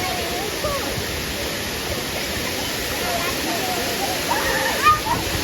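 The Areekkal waterfall in Kerala roars steadily and close by, a dense, unbroken rush of falling water with a few splashes near the end.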